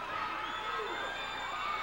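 Wrestling arena crowd at a 1987 Stampede Wrestling match, a steady, fairly distant murmur of many voices with scattered shouts, sustained evenly throughout without a clear peak.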